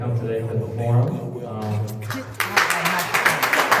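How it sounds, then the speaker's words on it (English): Audience applause for a candidate at an election forum in Flint, Michigan, a burst of clapping that starts after talk and continues steadily to the end, moderately loud in a room. "another applause for Mr. Black for being the only candidate to come today to the forum"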